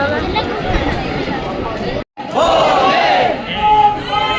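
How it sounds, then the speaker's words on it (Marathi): Dense crowd noise and chatter at the gate of Kalbhairav temple, a continuous near babble of many voices that cuts out briefly, then returns with louder shouting voices. "हे बघा किती गर्दी आहे इथे"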